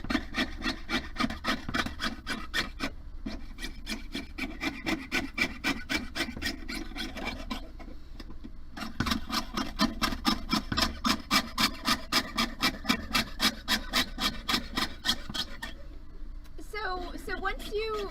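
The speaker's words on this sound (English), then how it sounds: "I'm just gonna keep sawing." A jeweler's saw cuts with quick, even back-and-forth rasping strokes, near and steady, broken by a couple of short pauses, with a voice speaking briefly at the end.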